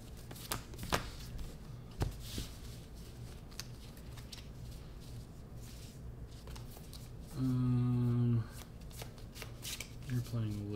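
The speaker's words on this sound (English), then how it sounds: "That should be enough shuffling." Star Wars Unlimited trading cards are riffle-shuffled on a table, a steady papery patter broken by a louder whirring bridge near the end, with faint voices in the background.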